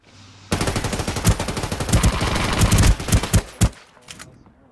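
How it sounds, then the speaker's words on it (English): Enemy gunfire in Ring of Elysium rattles out as a loud, sustained automatic burst, then breaks into a few separate sharp shots before falling silent. "his teammate's shooting at me now"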